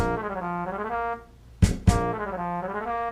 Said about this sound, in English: the trombone sounds like this.